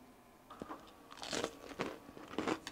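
Several crisp, crunchy bites of fried chicken close to the mic, each a sharp crackle followed by chewing, spaced about half a second apart.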